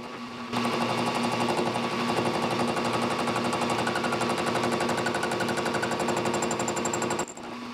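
Metal lathe taking a heavy interrupted cut on a cast aluminum piece with a high-speed steel tool, a steady, loud rapid chattering hammer that runs continuously for about seven seconds before cutting off abruptly.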